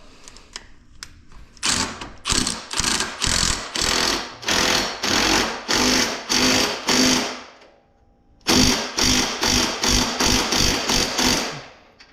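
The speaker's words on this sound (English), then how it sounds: "Now we'll get our 17mm socket and our wrench. Go ahead and tighten these up." A power impact tool tightening bolts with a 17mm socket while fitting a 2-inch bracket lift on a Honda 520 Rubicon ATV, loud close rattling bursts in rapid pulses, a brief pause, then more.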